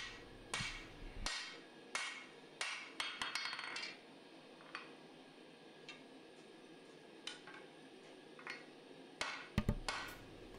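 Hammer blows forging a Musso Bowie knife blade, dressing the tapered profile: bursts of sharp metallic strikes in quick runs, with pauses between groups and a final flurry near the end.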